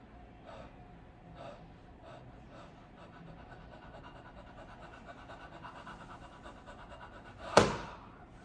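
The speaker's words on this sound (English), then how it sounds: "That's the movement of the diaphragm. That's in and out of breath." Slow, deliberate diaphragmatic breathing, in and out in a steady, unhurried rhythm, close and soft, ending in a brief loud thump.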